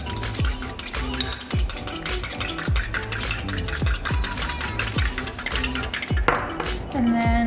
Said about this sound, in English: Whisk the egg up.